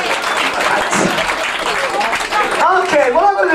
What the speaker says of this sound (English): Give him an applause. Come on, for George.